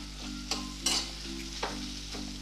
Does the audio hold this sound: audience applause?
no